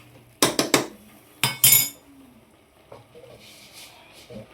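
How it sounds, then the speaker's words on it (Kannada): A spoon clatters and scrapes in a pot of mutton sambar masala and oil during stirring, with two loud bursts of metallic clanks early on, then fainter scrapes and clinks. "ಇವಾಗ ಚೆನ್ನಾಗಿ ಮಿಕ್ಸ್ ಮಾಡ್ಕೊಳ್ಳಿ ಆಯಿತಾ. ಎಣ್ಣೆ ಎಲ್ಲ ಕೂಡ್ಕೋಬೇಕು"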